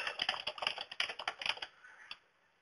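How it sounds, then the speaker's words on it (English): A rapid run of crisp computer keyboard key presses as an alias is typed, close and fairly loud, ending in a final tap before silence. "We'll type in the alias there and click OK"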